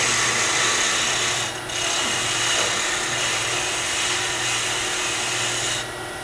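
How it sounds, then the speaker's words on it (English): A stick wrapped in 80-grit sandpaper rubbed across the flat bottom of a small wooden turned miniature: continuous close rasping strokes with short pauses between passes, no talking. "I have a stick with a piece of sandpaper on 80 grit, which I then can run across this bottom"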